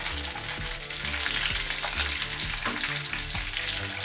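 Shrimp coated in a yogurt marinade fry for shashlik kebab, filling a hot pan with loud, close, continuous sizzling and spattering, broken by a few soft thumps of pieces being moved; no talking.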